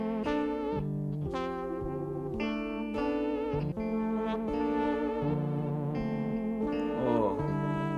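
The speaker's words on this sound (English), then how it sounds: "Subtle reverb swells." Sustained synth or guitar chords slowly swell and fade, washed in soft reverb and echo, changing every second or so with no voices.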